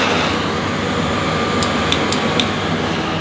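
An AEG VX8 Silence Pet Pro cylinder vacuum cleaner runs on its lowest power setting, close by, with a steady airy whoosh and motor hum broken only by a few faint ticks.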